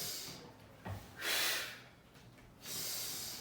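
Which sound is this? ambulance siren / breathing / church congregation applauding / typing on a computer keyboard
breathing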